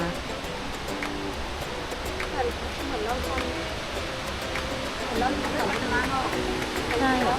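Steady rushing roar of Muak Lek waterfall on the Saraburi–Nakhon Ratchasima border, near a suspension bridge, a constant broadband wash with people talking over it throughout.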